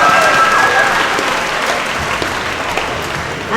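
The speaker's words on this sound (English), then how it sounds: "Let's give those dancers another round of applause." Loud, sustained applause from a school ceremony audience cheering dancers after their performance, a dense wash of many hands clapping at once that holds steady for the whole stretch, with some crowd noise mixed in.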